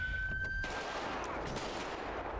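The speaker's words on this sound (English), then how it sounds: "shooting at my vehicle again" Gunfire in the FivePD police video game, aimed at a vehicle: a dense, sustained crackle of shots, loud and close, with sharp bursts early on that settle into a steady roar.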